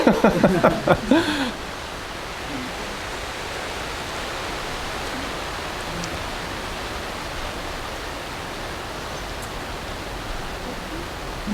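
Steady broadband rain hiss fills the clip after a short burst of voices at the start, even and moderately loud throughout with faint scattered ticks.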